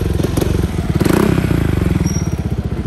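Touring motorcycle engine revving at close range, a loud, rapid, pulsing exhaust rhythm with a brief rise in throttle before settling back to a steady beat.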